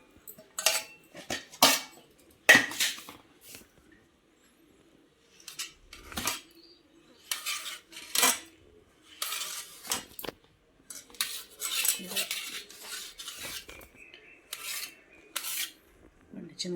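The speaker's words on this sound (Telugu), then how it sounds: "అందుకని నేను చిన్న చిన్నగా కట్ చేసుకుంటానండి." A knife chops ripe papaya into small cubes on a board in a home kitchen, with irregular bursts of tapping cuts separated by short pauses, close and clear.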